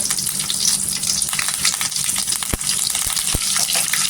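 Cumin seeds and curry leaves sizzling in a spoonful of hot oil, a loud continuous bright crackle with a couple of sharp pops near the end.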